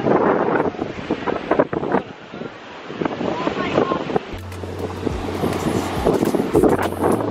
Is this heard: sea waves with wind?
yes